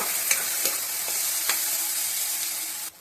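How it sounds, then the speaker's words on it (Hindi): Tomatoes and green chillies fry on a high flame for a bitter gourd dish, giving a steady loud sizzle with a few sharp clicks of stirring, then cutting off abruptly near the end. "इसको हम 10 सेकंड तक ऐसे ही हाई फ्लेम पे फ्राई करेंगे।"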